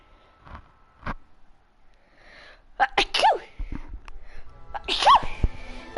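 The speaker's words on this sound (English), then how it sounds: "I feel a sneeze coming." A single sharp human sneeze near the end, preceded by a short wind-up inhale and mixed with a person's speech-like sounds and soft background noise.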